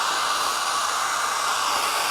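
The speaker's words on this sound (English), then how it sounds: "You just run the hair dryer up and down the length of this to dry things out." A hair dryer runs steadily at close range, drying a tinsel ball on a string on a humid day, giving a loud, even broadband whoosh with no breaks and no talking.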